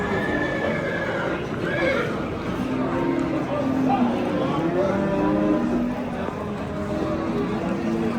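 Horses neigh repeatedly at the Oqtepa livestock market in Bulung'ur district, their whinnies rising over a steady crowd murmur and nearby cattle, with voices talking throughout.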